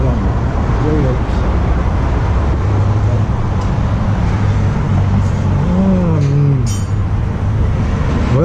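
LS-swapped Chevy Nova engine idling rough and running rich through a newly fitted exhaust system, a loud continuous low rumble with a few rising revs, heard close up under a voice.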